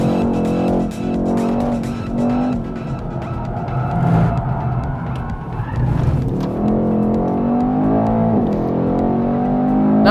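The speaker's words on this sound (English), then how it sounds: "Come out of the corner, full throttle." A 2018 Mercedes-Benz E63 AMG on a race track, powering out of a corner at full throttle: a loud, continuous engine roar climbing in pitch, with tire squeal and skidding as the car accelerates close by.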